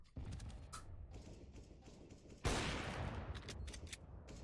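A sharp, loud gunshot fired through a wall in Counter-Strike: Global Offensive cracks out midway, set against quieter in-game mechanical clicks and footsteps with faint reverberant background.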